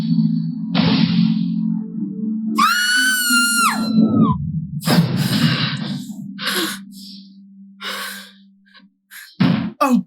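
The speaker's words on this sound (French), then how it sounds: "Elle est toujours en train de crier." A girl screams in a high, piercing burst with sweeping pitch lasting over a second, amid sighs, gasps and other vocal sounds close by, with a later sharp outburst near the end.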